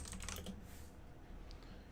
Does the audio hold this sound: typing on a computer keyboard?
yes